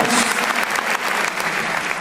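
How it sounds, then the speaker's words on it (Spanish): A church congregation applauds loudly and continuously, a dense wash of many hands clapping together at close range. "Fuertes aplausos a nuestro Dios"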